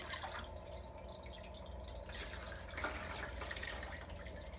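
Water trickling and dripping steadily into an aquarium hang-on-back filter to prime its pump, a quiet continuous pour heard up close with no talk.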